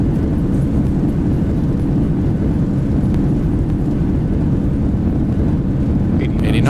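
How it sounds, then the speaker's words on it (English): Thrust reversers of a Zibo Boeing 737 on landing in the X-Plane 12 flight simulator roar as a loud, steady, low rumble that fills the whole stretch without easing. "Gotta love the sound of the reversers."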